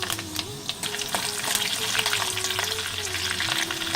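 Hot oil crackles and sizzles steadily in a pan as mustard seeds, curry leaves and green chilies fry, with light stirring scrapes throughout; close by and continuous, no voices.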